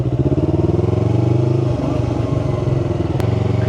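A Yamaha R3 motorcycle engine thrums loudly and close, dipping briefly as the throttle is released and a gear is shifted, then pulling again with a steady throb.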